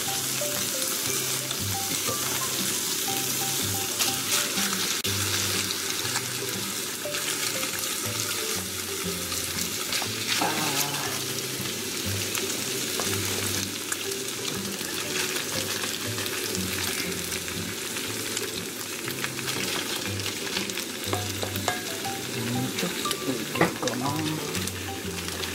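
Okonomiyaki batter spread on a hot griddle, giving a dense, constant sizzle that runs close and unbroken throughout, with faint clatter here and there.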